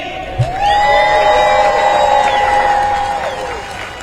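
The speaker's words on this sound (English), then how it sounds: "Give some applause." A crowd at a Memorial Day parade in Washington cheers and shouts for several seconds, a loud wash of voices with whoops rising above it.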